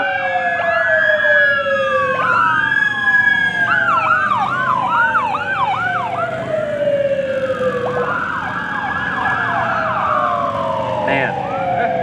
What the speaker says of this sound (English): Sirens rolling.